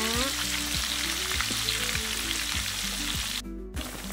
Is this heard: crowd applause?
no